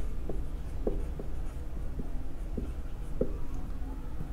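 Pen or marker writing labels onto a drawing of a cell nucleus, with short scratchy strokes and taps coming in an irregular rhythm, close and fairly quiet over a steady low background hum.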